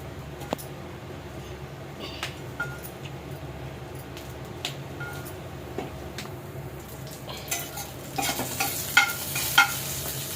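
Green chillies fry in a pan for peanut chutney, a quiet steady sizzle with occasional spatula clicks, then a louder burst of crackling and scraping near the end, close, no talking.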